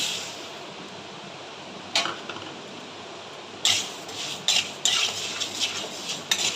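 Moong dal dry-roasted and stirred in a metal kadai. A spatula scrapes and clinks against the pan in sharp bursts over a steady faint background, with several close clatters in the second half.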